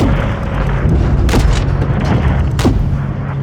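Artillery fire in the video game Call of Duty Modern Warfare 3: a loud, continuous low rumble of bombardment, with two sharp booming blasts standing out partway through.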